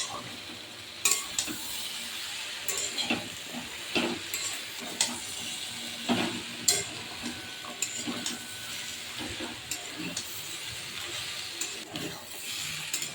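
Vegetable curry with fried jackfruit-seed fritters being stirred and sautéed in a pan, steady sizzle broken by repeated scraping stirs and occasional utensil clinks, close and moderately loud with no talking.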